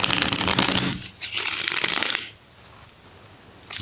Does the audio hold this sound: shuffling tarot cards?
yes